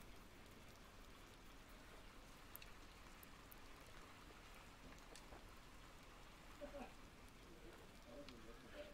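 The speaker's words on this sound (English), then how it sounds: "A lot of rain happening in the city." Rain falling on a city in the video game Little Nightmares II, a faint, steady patter of drops that stays low and even throughout, with a few slightly louder spatters near the end.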